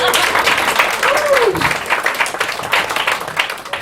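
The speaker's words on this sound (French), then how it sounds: "on va s'applaudir parce que c'est vraiment super merveilleux" Audience at a slam poetry session in Montreal's Bar Populaire claps steadily, a dense burst of applause filling the room throughout, with a voice briefly audible over it.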